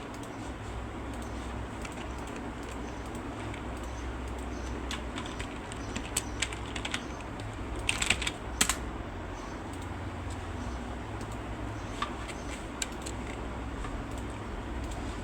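A computer keyboard is typed on while entering Python code. Faint, scattered key clicks sit over a steady low background hum, with a short cluster of sharper taps near the middle.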